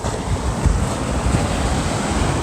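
Ocean waves wash onto a beach in Naples in a steady, loud rush mixed with wind buffeting the microphone, with no voices.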